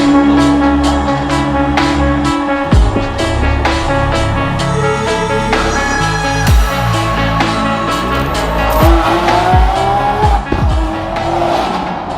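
Loud engines rev and scream at a Lamborghini cars and coffee meet in Houston, with repeated high-pitched revs, rising whines and tire squeal that sound close and fill the whole stretch.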